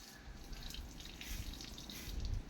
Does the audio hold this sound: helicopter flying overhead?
no